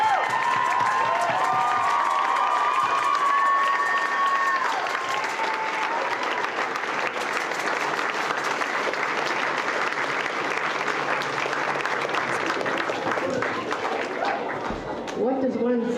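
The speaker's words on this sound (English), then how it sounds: "Have a big round of applause." A crowd claps for a sustained stretch in a school hall at a charity song-marathon cheque presentation for the Canadian Red Cross, with talking and a few cheers woven through the long, steady applause.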